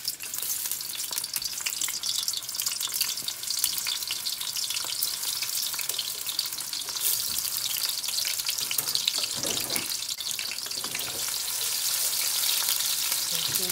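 Chopped onions frying in olive oil make a continuous, close sizzle with occasional crackles and stirring, loud and unbroken throughout.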